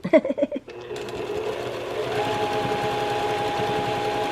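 A sewing machine stitches a quilt block seam, running in a fast, even mechanical whir that continues steadily after a few brief opening sounds close by.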